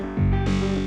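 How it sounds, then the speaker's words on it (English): A sustained, buzzy Roland MC-505 synthesizer tone through a short delay with high feedback, with a hollow, ringing metallic color, its timbre brightening partway through. "You get this metallic sound like this"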